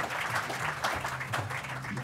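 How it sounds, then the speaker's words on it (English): A short burst of audience applause at a startup event, dense and steady, with some background voices mixed in. "Let's give these guys a round of applause."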